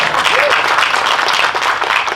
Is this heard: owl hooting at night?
no